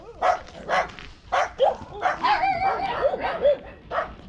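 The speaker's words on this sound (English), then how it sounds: "These doggies just so mad at you today." Several dogs bark and yip in quick bursts, some whimpering and whining between barks, fairly close and loud outdoors along a village road.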